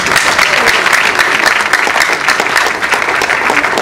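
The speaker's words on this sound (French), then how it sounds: "Si on peut applaudir pour eux." Loud, dense applause from a crowd at a press conference, honoring artists ahead of a stadium concert, a sustained wash of many hands clapping close by without pause.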